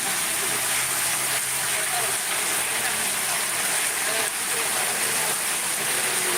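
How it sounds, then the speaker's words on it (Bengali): Heavy monsoon rain pours down in Amtali, Barguna, a dense, unbroken roaring hiss of drops on surfaces that stays loud and even throughout. "প্রচুর পরিমাণ বৃষ্টি হচ্ছে আমাদের আমতুলিতে"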